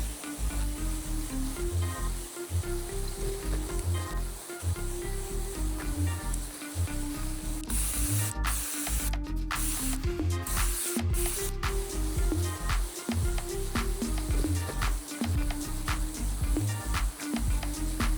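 Pressure-washer surface cleaner running over a filthy patio, a loud steady spraying hiss with a low rhythmic motor pulse, close and continuous, briefly swelling brighter midway.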